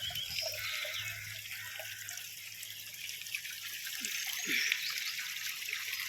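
Water from a borewell overflows after heavy rain in Almavadi, Dediyapada, a steady trickling gush with faint drips, continuous and fairly quiet, with no talk.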